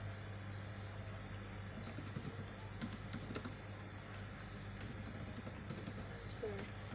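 Keys clatter on a computer keyboard in quick irregular bursts during a network lab configuration, fairly faint over a steady low hum of room or machine noise.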